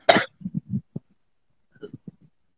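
Someone coughs, one sharp burst followed by a cluster of short hacking coughs, then a pause and another quieter round of brief coughs and throat sounds, close to the microphone.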